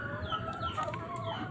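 Clucking from a chicken with a prolapse, soft and somewhat distant, a steady run of short calls over low background noise.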